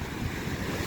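Ocean waves in a typhoon break and crash over shallow rocks along the shore, a steady, loud roar of churning surf mixed with wind buffeting the microphone, with no voices.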